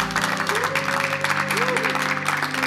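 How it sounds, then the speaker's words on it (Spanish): Church congregation applauding during a service, a dense steady clapping with a sung or held voice tone running beneath it. "Dale un aplauso a Jesús."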